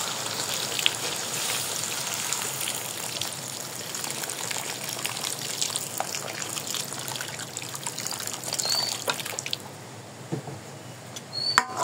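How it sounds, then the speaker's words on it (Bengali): Lukewarm water is poured into a pot of chicken and potato curry, a continuous trickling splash over a soft sizzle, steady and close, ending with a few clinks, no talking. "এখন জল দিয়ে দিব, আমি এখানে কুসুম গরম জল দিচ্ছি।"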